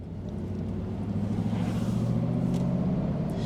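Steady low rumble of a 1987 Mercedes-Benz 560 SL heard from inside the cabin with the top up, a smooth, even engine and road drone with no talking.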